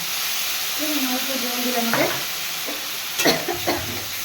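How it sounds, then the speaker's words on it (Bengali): Paneer curry masala with green chillies is sautéed in a small splash of water in a pan, sizzling steadily, with a few sharp spoon scrapes and stirs standing out above the hiss. "আমি কাঁচা লঙ্কা ছিঁড়ে দিয়ে দেবো সব দিয়ে আমি অল্প সামান্য জলে কষাতে থাকবো"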